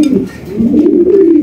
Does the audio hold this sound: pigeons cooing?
yes